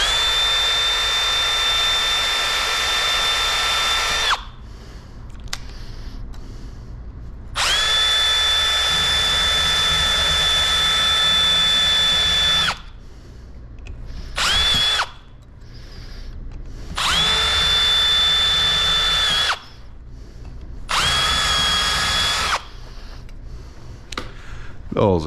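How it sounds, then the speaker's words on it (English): A power drill whines loudly in several long bursts separated by short pauses, close up, with a high steady pitch while running, drilling off rivets on a 2013 Porsche Boxster (981) convertible top. "We can drill them off or disconnect it first"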